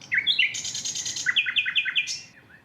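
Bird song rings out in a quick series of bright, high chirps and rising whistled notes, clear and close, with no other sounds.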